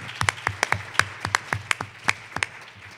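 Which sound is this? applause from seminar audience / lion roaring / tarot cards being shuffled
applause from seminar audience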